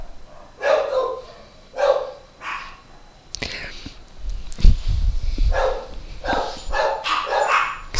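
Dogs barking close by in a home: several loud, spaced barks and yips, then a louder burst of overlapping barking as a person calls out to them over it.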